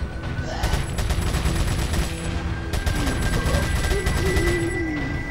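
Gunfire in the game Resident Evil 4, a rapid series of sharp shots in quick bursts over a steady noisy game background, with brief gaps between volleys.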